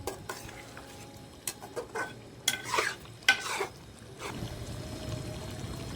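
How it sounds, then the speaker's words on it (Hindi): Beef karahi is stir-fried in oil in a pot, giving a soft continuous sizzle broken by scraping stirs and a few louder clanks of the spoon against the pan, close by and with no voices. "इसका ऑयल सेपरेट होने तक हम इसकी भुनाई करेंगे"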